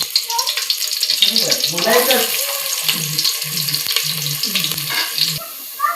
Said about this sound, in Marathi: आपण कांदा तेल हे केलं तापत ठेवलं पातेल्यात. कांदा भाजून घेऊया.